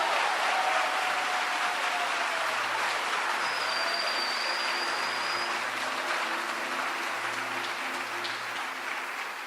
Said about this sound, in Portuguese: Poderia ser melhor esse aplauso ao Senhor